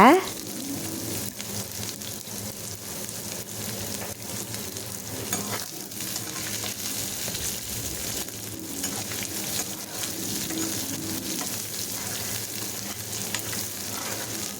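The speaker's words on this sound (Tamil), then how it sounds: "மீடியம் ஃப்ளேமில் வச்சுட்டு நல்லா ஃப்ரை பண்ணிடுங்க" Onions and curry leaves fry in a pan on a medium flame for beetroot poriyal, a steady, even sizzle with occasional stirring scrapes running throughout, close and continuous with no talk.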